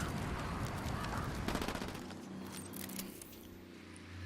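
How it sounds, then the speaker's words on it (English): Rapid automatic gunfire in a Ghost Recon Wildlands shootout: a steady, fairly distant rattle of bursts under a busy battle mix, with no clear talking. "Taking fire from the parking area."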